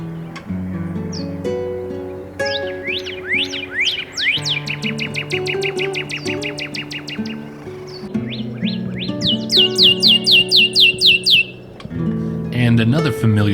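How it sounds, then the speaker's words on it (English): A northern cardinal sings in southern Arizona, giving bright, clear repeated whistled notes in quick series, some sliding downward, close and loud, with a low voice faintly underneath at times. "the first species I saw down in Arizona was the iconic northern cardinal"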